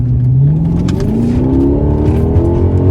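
Straight-piped Chrysler 300 Hemi C V8 revving loud and close, its deep exhaust note climbing steadily in pitch over a few seconds with a rough, rumbling edge and no talk.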